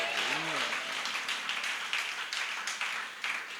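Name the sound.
church congregation clapping hands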